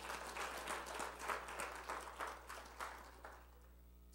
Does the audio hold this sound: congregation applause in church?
yes